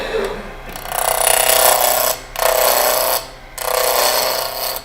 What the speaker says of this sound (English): I could use my skew here to round this off, or my roughing gouge, but I would rather use my bow gouge.